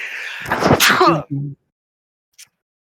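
A single sharp sneeze bursts out, followed by a brief voiced tail and a faint click, close to the listener.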